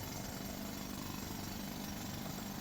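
An air-powered rock drill with an oiler on its airline hammers inside a mine, a dense continuous rattling roar that is steady and unbroken throughout.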